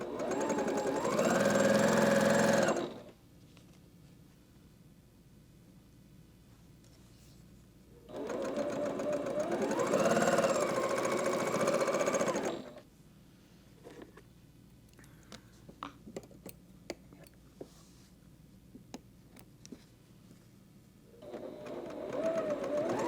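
Domestic sewing machine stitching quilt blocks for a pumpkin-themed quilt, heard in three separate bursts of steady rapid whirring, each a few seconds long, with quiet handling clicks and rustles between them.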